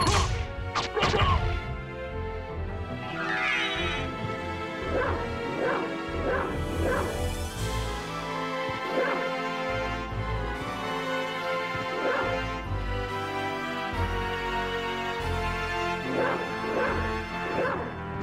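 Wolf barks from the PS1 game Castlevania: Symphony of the Night, repeated sharp barks and yips with whacks and crashes over continuous game music, no talk.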